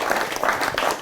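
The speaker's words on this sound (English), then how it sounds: "can we give a round of applause to everybody" Brief burst of crowd applause at a business certificate presentation, steady clapping from many hands at moderate volume with no pauses.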